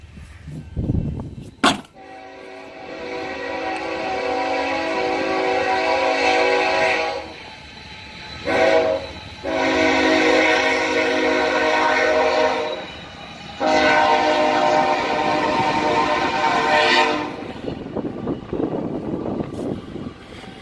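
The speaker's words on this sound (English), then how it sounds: "I got a train about to roll by here." A train rumbles past nearby with a loud, sustained horn sounding in long blasts, the engine and wheels roaring steadily underneath.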